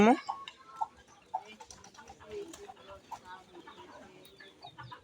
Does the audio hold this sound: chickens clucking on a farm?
yes